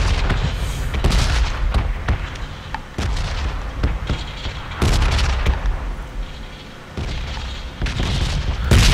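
Explosions in PUBG, a battle royale shooter, boom repeatedly at close range, with several heavy blasts and crackling gunfire bursts rolling through the whole stretch.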